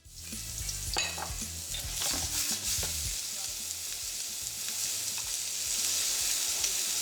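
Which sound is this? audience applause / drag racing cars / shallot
shallot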